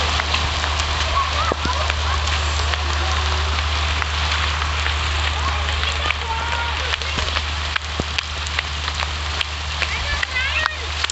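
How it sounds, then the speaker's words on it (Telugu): Heavy rain pours steadily and loudly in an open desert area near Showkah Dam in Ras Al Khaimah, a dense continuous hiss with scattered drop impacts while people talk over it. "Because heavy rain."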